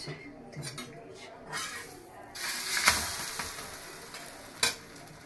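An egg cooking on top of a chapati in a pan, a soft sizzle broken by scrapes and metallic clinks of a utensil, with one sharper knock near the end.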